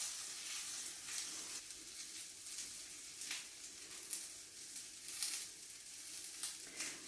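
Tuna fritters frying in a pan, a soft continuous sizzle with bright crackling bursts that rise and fall, close but fairly quiet, no talking.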